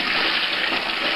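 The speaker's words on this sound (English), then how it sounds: "we're going to just let them go into the ice water for about 10 minutes or so" Boiled eggs going into a bowl of ice water give a steady, loud watery gush and splashing throughout, close by, with no talking.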